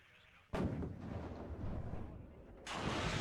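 A tank cannon fires at a BMP-2 infantry fighting vehicle in the Cold War strategy game WARNO: a sharp, loud boom with a rumbling tail, then a second blast of noise a couple of seconds later.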